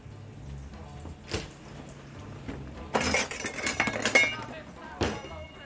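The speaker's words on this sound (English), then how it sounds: "I'm going to check the crust with the spatula and see how that is." A metal spatula scrapes and clinks against a pan beneath a Sicilian pizza crust, with scattered knocks and a brief burst of close scraping in the middle.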